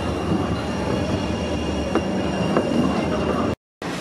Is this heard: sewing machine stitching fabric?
no